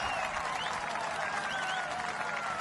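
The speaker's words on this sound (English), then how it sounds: "Been a while since the crowd had a boundary to cheer for." A cricket stadium crowd applauds a boundary, a dense, steady wash of clapping and cheering that fills the whole short stretch at a distance.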